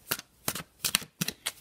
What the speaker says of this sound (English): I'm just going to continue shuffling.